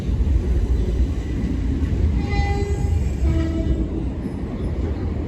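A Southern commuter train around Selhurst near London sounds a clear horn of two tones as it rumbles past, loud and close over a steady roar of wheels and rails.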